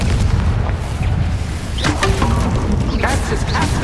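A Confringo spell blast in Hogwarts Legacy goes off amid busy game combat, with booming impacts and cracks over a dense, steady rumble, sharp bursts landing near the middle and end.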